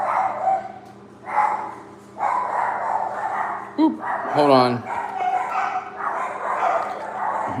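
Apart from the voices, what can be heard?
small dog barking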